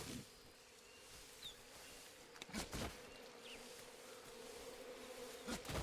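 Bees buzz steadily in a jungle setting of the Metal Gear Solid Delta: Snake Eater video game, a faint continuous drone with a few soft thumps, no voices.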